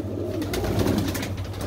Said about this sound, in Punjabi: ਪੂਰਾ ਖੁੱਡਾ ਜਿਹੜਾ ਭਰਿਆ ਹੋਇਆ ਕਬੂਤਰਾਂ ਦੇ ਨਾਲ